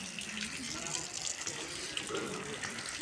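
A water tap runs steadily at a historic garden palace in Srinagar, Kashmir, a continuous faint splashing gush with light background murmur.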